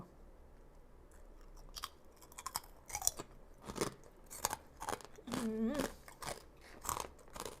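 Crispy fat-free pork rinds crunch in irregular, close bites and chews, fairly faint, with occasional speech in between.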